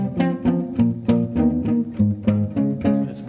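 Guitar chords voiced with the root and fifth in the bass, strummed in a steady rhythm of short, punchy hits, roughly three per second, close and clear with no talking, giving a rock-like power-chord feel.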